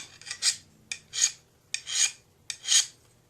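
A lathe skew chisel being sharpened with a hand file: four separate rasping strokes, evenly spaced and close, each swelling then fading, with quiet gaps between.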